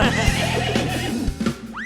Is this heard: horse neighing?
yes